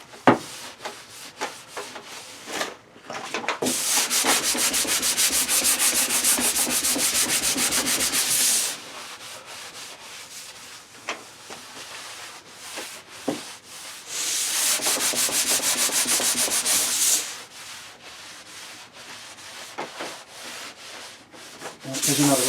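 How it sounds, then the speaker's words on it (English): A rough spot on shellacked MDF is hand sanded in two long bursts of steady, close scratchy rubbing, separated by quieter pauses with faint handling noises. "I need to sand that a little bit more."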